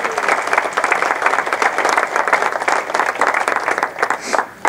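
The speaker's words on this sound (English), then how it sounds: "Can I have a round of applause for your OTA staff?" A conference audience applauds the staff at an annual general meeting, a loud, thick burst of many people clapping that stays strong for several seconds before tapering off, with no speech over it.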